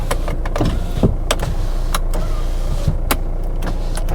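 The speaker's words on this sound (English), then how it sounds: "All four windows work." Power windows on a Kia Sportage whir up and down in a steady electric hum, punctuated by sharp clicks and thumps as each window stops, heard close inside the car.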